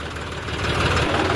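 Tractor engine running at a river boat crossing, a steady, rumbling, slightly knocking diesel idle, fairly close and continuous, growing a little louder toward the end.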